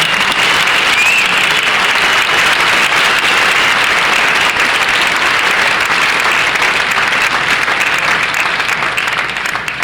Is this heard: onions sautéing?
no